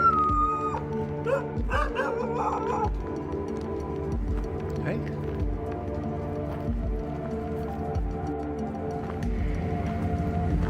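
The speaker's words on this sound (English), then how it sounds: "the dogs do not attack the stranger, they just continue to alert their owner" Several dogs at a house bark repeatedly to alert their owner to a stranger. The short, loud barks come in bursts while people talk over them.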